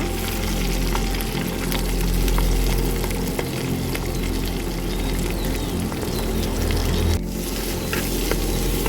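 Onion frying in hot coconut oil, with a constant, loud sizzle and occasional crackles and stirring scrapes throughout.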